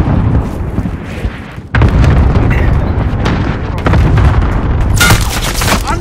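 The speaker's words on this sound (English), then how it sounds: "Allied cluster strike inbound." Allied cluster strike in the flight game Duel Eagle, a continuous roar of booming explosions and rapid detonations, very loud and near, swelling sharply partway through and staying intense.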